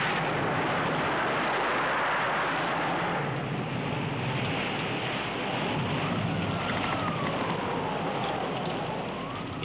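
A cartoon storm on the China Sea makes a dense, continuous roar of wind and rain that swells and eases slightly but never stops, with no voices over it.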